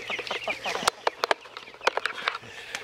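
Hens cluck in short, irregular bursts close by, with a few sharp taps and quiet background murmur.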